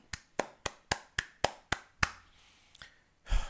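Hands clap sharply about eight times in a steady rhythm, close and loud, followed by a pause and a final burst of noise.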